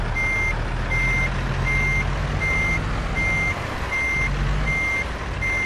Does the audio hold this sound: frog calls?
no